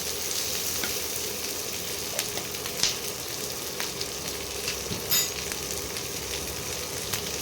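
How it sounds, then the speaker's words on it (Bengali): Onion with cumin and other whole spices frying in oil, a steady close crackling sizzle that runs throughout with a few brief louder pops and clatters. "এগুলো দিয়ে ভালো করে ভাজবো। পেঁয়াজটাও রং চেঞ্জ হয়ে যাবে আর মশলাগুলো একটু ভাজা হয়ে যাবে"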